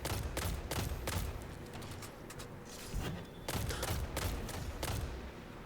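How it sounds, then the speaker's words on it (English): Scout rifle fire in Destiny 2 during a solo Grandmaster run, a series of sharp, loud shots spaced at irregular intervals, some in quick pairs, over a low background rumble with no talking. "we shoot a scout rifle for 10 minutes"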